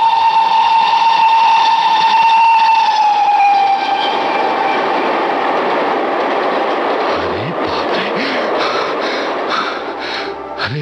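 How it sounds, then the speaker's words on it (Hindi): A passing train sounds a loud, sustained whistle for several seconds, then gives way to a rolling, hissing rumble of cars going by close at hand. "अरे इस रेलगाड़ी ने तो मेरे पांव ही उखाड़ दिए थे"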